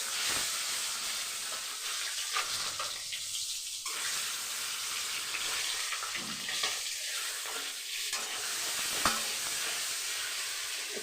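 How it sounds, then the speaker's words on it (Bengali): Turmeric-coated duck eggs fry in a hot wok with a steady, loud sizzle and hiss that runs the whole time, broken by a few sharper spatters and faint stirring. "আমি ডিমগুলো আস্তে আস্তে ছেড়ে দেবো।"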